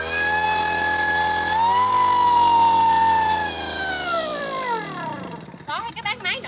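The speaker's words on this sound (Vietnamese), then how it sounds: "Có thấy các bác máy nổ không? Máy nổ rất là mạnh và rất là đã luôn." A Japanese iron sprayer machine for spreading fertilizer, lime and seed runs after a pull start: a strong, loud steady engine drone with a high whine that drops in pitch and sputters toward the end.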